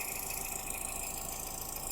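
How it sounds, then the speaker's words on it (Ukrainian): A MINI R56 engine idling after its intake VANOS valve was replaced, a steady close mechanical hum and whir running evenly without pause and still sounding noisy. "В принципі, я все замінив, але мотор шумить."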